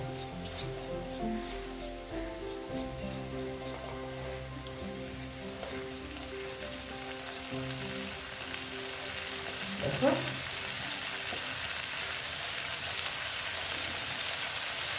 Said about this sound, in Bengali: পোস্তটা আমি ভেজে নিচ্ছি তেলটার মধ্যে